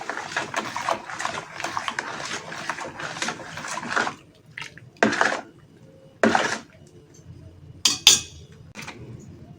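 Rapid, continuous stirring swishes and clinks in a container of homemade liquid soap mixture made from used oil and salt, then slows to a few separate scrapes and taps.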